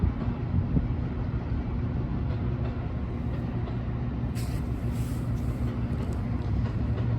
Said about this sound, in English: comes the Metra in from the yard on the track that would be directly below us